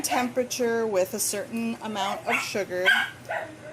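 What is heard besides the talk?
dog barking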